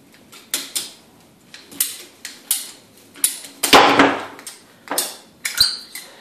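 Repeated sharp cutting snaps on PVC pipe pieces, about a dozen crisp clicks and crunches spaced roughly every half second, close and fairly loud, with a denser burst of cutting in the middle and no talking.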